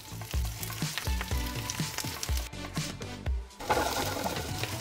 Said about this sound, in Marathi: आपण यांना आता शॅलो फ्राय करून घेत आहोत।